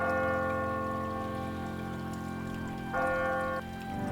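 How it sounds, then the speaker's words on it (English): Church bells of St. Peter's Basilica toll, ringing out sustained, resonant tones that hang in the air, with a fresh strike swelling the sound partway through; no voices. "The bells of St. Peter's Basilica toll 33 times"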